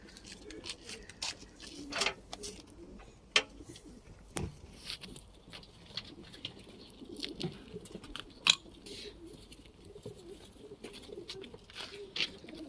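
Jefferson white pigeons cooing softly at a loft, with scattered clicks, wing flutters and faint rustling, a few sharper knocks, and quiet background voices.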